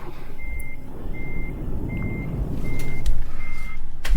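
A truck in the video game Euro Truck Simulator 2 reversing, with a deep rumbling engine under evenly spaced, steady high-pitched reversing beeps, the engine growing louder toward the end.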